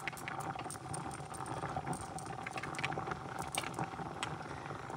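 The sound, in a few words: pot of rice and beans starting to boil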